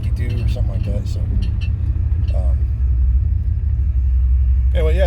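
A 1990 Chevrolet K2500 pickup with a 4L80E automatic transmission idles and runs with a steady low rumble throughout, loud and close, while a person talks over it and a brief chirp comes near the end.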